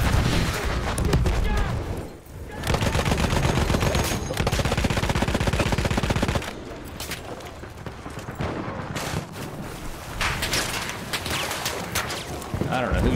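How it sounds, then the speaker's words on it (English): Dense, loud automatic gunfire and bursts from Battlefield 1 multiplayer on Xbox, continuous rapid fire with heavy rattling volleys and a voice talking over the chaos. "I don't know who's shooting at me."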